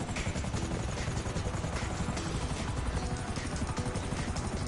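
A helicopter in GTA V, heard from inside or close by, gives a loud, continuous rotor and engine roar with steady rhythmic chopping and no break.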